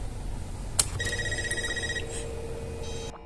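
A telephone rings in a tense horror-film scene from Scream 5, with repeated electronic bell-like trills over a low background hum, beginning after a short sharp hit.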